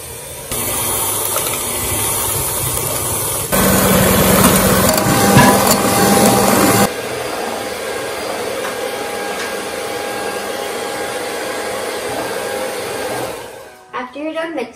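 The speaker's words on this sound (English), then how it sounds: "Now we're gonna whisk it with your hand mixer or a stand mixer, whatever is fine." A hand mixer whisking cake batter for a strawberry, banana and pear sharlotka, a loud steady motor whir that starts at a lower speed, jumps up in speed for a few seconds, then settles back before switching off.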